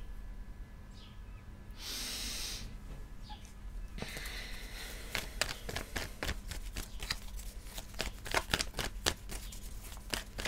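Tarot cards are shuffled at close range in a quiet room, first a soft breathy riffle and then a run of crisp, rapid card snaps that grow busier toward the end, with no voices.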